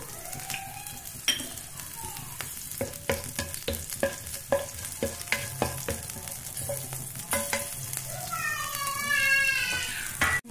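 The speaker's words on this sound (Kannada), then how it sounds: "ಹಸಿಮೆಣಸಿನಕಾಯಿ ಹಾಕ್ತಾಯಿದ್ದೀನಿ, ಸ್ವಲ್ಪ ಫ್ರೈ ಆಗಿದೆ. ಇದಕ್ಕೆ ಜೀರಿಗೆ ಸೇರಿಸ್ತಾ ಇದ್ದೀನಿ." Green chillies and cumin frying in hot oil in a pan, a constant sizzle under repeated sharp spoon clinks and scrapes, with a few faint background sounds and a brief voice.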